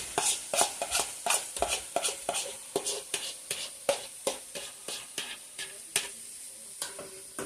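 Onions sautéing in a pan as a meatloaf mixture is prepared, with a steady run of close, sharp scraping taps from a utensil stirring them over a soft background sizzle, no voices.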